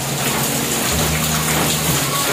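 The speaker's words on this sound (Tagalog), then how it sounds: "Maghapon, magdamag, walang tigil ang ulan." Heavy, unceasing rain pouring down near a cassava and ginger farm, a loud, dense roar of water with a gushing, rushing quality, continuous and close.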